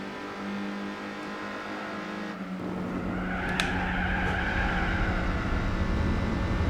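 Race cars battle closely in Gran Turismo 4, engines droning loudly and rising as they accelerate, with tires squealing and skidding as the pack jostles through a corner, with no voices.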